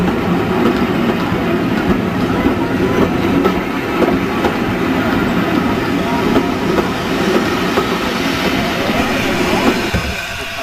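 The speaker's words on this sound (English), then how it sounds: "another train is arriving from Minehead with a Great Western Railway engine in charge" A passenger train hauled by a Great Western Railway steam engine rolls into a West Somerset Railway station from Minehead, its wheels clattering in a steady, loud rumble that eases off near the end.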